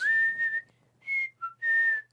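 A person whistles in four bursts: two long sustained tones, a quick short chirp, then another long held note, close and clear with no talking.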